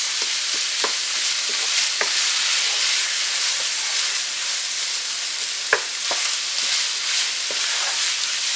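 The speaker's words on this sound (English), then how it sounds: "We're trying to break up these large chunks." Ground meat chunks being stirred and broken up in a pan over medium heat, a steady sizzle and hiss throughout with a string of sharp scraping knocks of the utensil against the pan.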